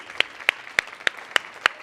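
Six evenly spaced, crisp claps ring out at a Millennium Stage concert as the audience applauds the performers, close and distinct over a faint background hush.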